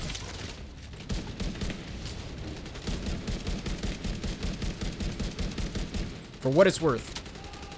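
Rapid bursts of automatic weapon fire in The Division 2, a steady rhythmic rattle running for several seconds at moderate loudness, followed by a louder closer burst near the end, with someone speaking briefly over it.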